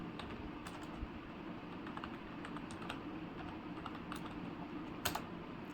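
Steady keyboard typing on a computer while a Kubernetes service manifest is written, with quick, even keystrokes and a few sharper clacks, close and fairly quiet, with no voices.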